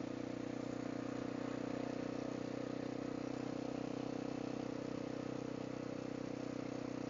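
A Honda XR650L motorcycle riding along, its engine a steady, close, continuous drone with an even tone and no pauses or speech for the whole stretch.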